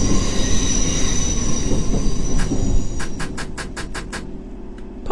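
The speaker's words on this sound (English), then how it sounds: "this is a thing. Emergency brake." Subway train emergency braking in the video game Subway Simulator: a loud rumbling rolling roar that gradually eases, followed by a rapid series of clicking wheel clacks as the train slows, with no talk.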